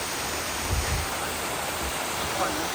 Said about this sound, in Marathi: इथं वरनं पाणी येतं